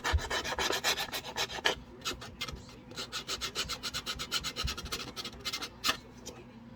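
Hand sanding of a St. Yosef statue gives close, rapid scratchy rasping strokes in a steady back-and-forth rhythm, continuing without pause and growing slightly sparser toward the end.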